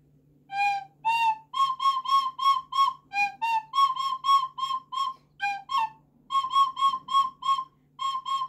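A solo recorder plays a simple melody of short, clear whistle-like notes, evenly paced with brief pauses between phrases, close and alone.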